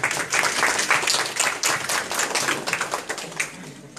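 A crowd applauding steadily at a municipal museum exhibition opening, dense rapid clapping that stays loud throughout with no voices over it.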